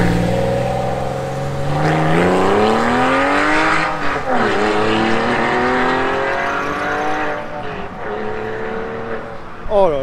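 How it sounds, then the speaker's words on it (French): A Porsche 996 at a charity supercar event rises in pitch as it accelerates past nearby, then drops away and revs again, the engine loud and prominent with a brief voice near the end. "Oh là là, le son de cette 996, magnifique."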